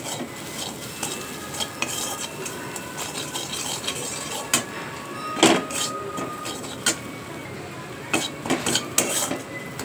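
Spices being stirred and fried in a pan with a spatula for a bitter gourd dish, producing a continuous low sizzle broken by irregular metallic scrapes and clinks against the pan, close and moderately loud, without talk.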